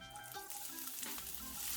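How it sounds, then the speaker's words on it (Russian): Two finely chopped onions fry in vegetable oil with a constant soft sizzle and crackle, up close, with light clinks of stirring on top. "Параллельно в растительном масле обжариваем до золотистого цвета 2 мелко нарезанные луковицы."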